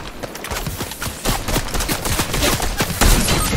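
Video game gunfire comes from a shooter firing down from above, heard as dense rapid bursts of shots with a few heavier reports near the end, loud and continuous with no talk.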